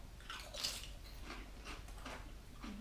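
Tayto cheese and onion crisps are bitten and chewed close up, a series of quiet, rhythmic crunches about every half second with a sharper crack near the start, and no talking.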